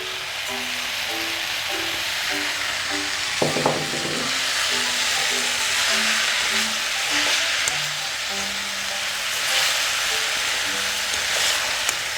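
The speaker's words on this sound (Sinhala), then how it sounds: "ඊගාවට අපි කඩාගත්ත බිත්තරෙත් දාගමු." Beaten eggs hit a pan of frying okra curry, giving a loud, steady sizzle with stirring scrapes and a few sharper knocks, continuous and close with no talking.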